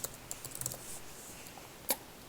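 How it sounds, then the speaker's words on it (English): Light, quick keystrokes tapping on a computer keyboard, faint and close, with one sharper click near the end and no voices. "I'm just double clicking on that and then typing in the word."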